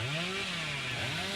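A revving chainsaw in the horror game Dead by Daylight, a brief buzzing engine whine that rises and dips in pitch, faint and alone.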